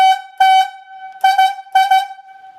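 Yarder whistle sounding a slackline logging signal for the transfer back on the carriage, a loud, steady horn-like tone in a pattern of short and longer blasts, with no voices.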